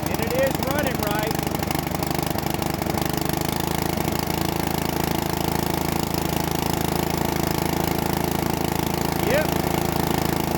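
A Bolens riding mower engine, choke off, runs at a steady, even idle close by for the whole stretch, with talk over it.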